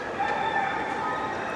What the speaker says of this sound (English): there's chickens up here, apparently.